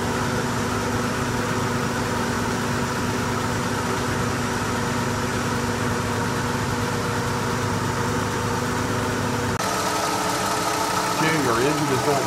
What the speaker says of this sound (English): Our engine is all warmed up a little bit better.